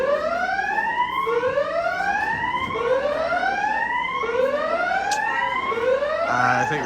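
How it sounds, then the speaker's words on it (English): A fire alarm going off inside a building at Halloween Horror Nights 31, sounding as a loud, continuous siren of repeated rising electronic whoops, roughly one per second, with no talking. "I think the fire alarm."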